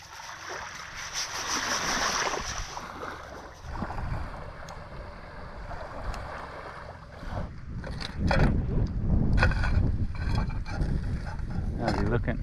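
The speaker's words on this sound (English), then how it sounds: "we're just running the motors a bit to recharge the batteries" A sailboat's motors running at sea at sunset to recharge the batteries: a steady low engine rumble with wind and water noise, growing heavier in the second half, with faint clatter now and then.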